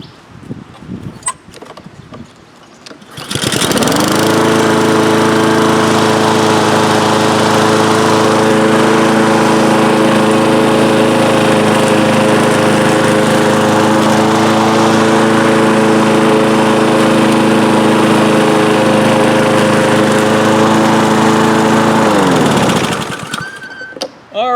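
Self-propelled lawn mower with newly replaced drive wheels starts up and runs for about twenty seconds, a loud, steady close engine drone with a buzzing tone, then cuts off and winds down.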